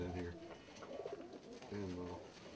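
Breeding monk pigeons coo in a loft, a soft low warbling repeated a couple of times, close and fairly quiet, with someone speaking nearby.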